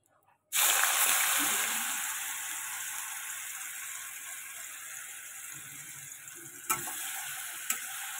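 Grated potato frying lightly in a pan gives a steady, close sizzle that starts abruptly and continues, with a couple of brief clinks of a utensil near the end.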